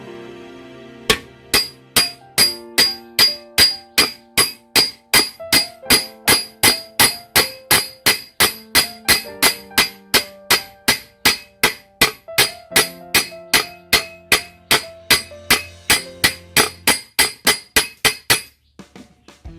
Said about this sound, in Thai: เราจะใช้ ค้อนอีกอันหนึ่งนะครับ มาทำการตอกตรงรูรั่วตรงนี้นะครับ